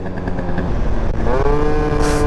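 A small scooter engine buzzes close by while riding, then rises into a higher revving whine as it picks up speed, with a rush of wind noise.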